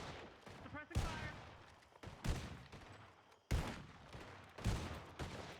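Bursts of automatic gunfire from a roleplay video game crack out in repeated volleys about a second apart, loud and close, with voices talking faintly between them.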